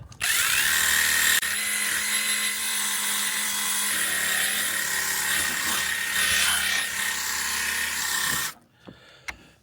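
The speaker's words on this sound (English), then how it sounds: "It's a cordless pressure washer." A cordless pressure washer sprays water across an RV roof in a loud, steady broadband hiss that holds for about eight seconds before cutting off abruptly, leaving a few faint knocks.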